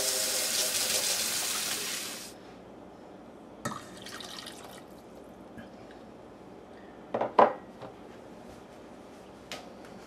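Hot tap water runs into a bowl of bread dough mix, a bright steady gush for about two seconds, then stops; a few faint clinks and splashes follow in a quiet kitchen.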